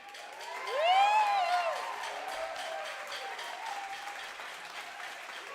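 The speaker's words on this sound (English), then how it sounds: "another round of applause for Stuart" An audience at a taiko drumming gathering bursts into applause for a performer, with a whooping cheer rising near the start; the clapping swells quickly, then settles into steady, dense clapping that carries on to the end.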